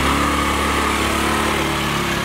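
A motorcycle engine runs close by, loud and steady, with a high-pitched buzzing drone and no break or speech over it.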